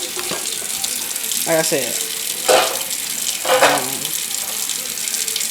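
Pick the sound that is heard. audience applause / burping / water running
water running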